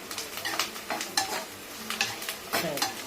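Mustard seeds, chana dal, urad dal, cumin, chilies and curry leaves fry in hot oil, sizzling and crackling up close as a spoon stirs them with quick scraping sounds.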